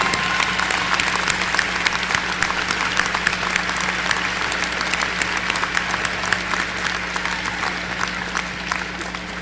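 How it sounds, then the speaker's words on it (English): Graduates and guests give a long, steady standing ovation at a spring commencement ceremony, the dense clapping of a large crowd continuing evenly throughout at a constant level. "please rise for a round of applause"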